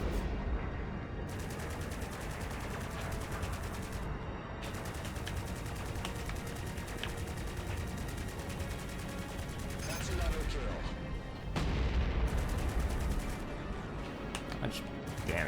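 Rapid bursts of spaceship cannon fire in the space combat video game Strike Suit Infinity, dense continuous rattling volleys with brief gaps, moderately quiet overall with heavier impacts near the end.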